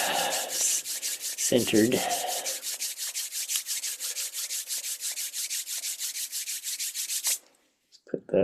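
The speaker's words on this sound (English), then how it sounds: "I'm going to start with my little hand rubbing thing" Hands rub together in a quick, steady rhythm of many short swishing strokes close to the microphone, with a brief murmur early on and a word spoken near the end after the rubbing stops.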